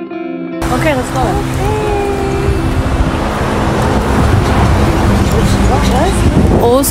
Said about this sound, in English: Also, the traffic here is insane.